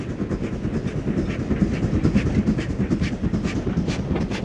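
Preserved GWR 4200 class tank engine Goliath running on the Torbay and Dartmouth Railway in Devon, a steady loud rumble with rapid rhythmic clatter and chuffing throughout, no voices.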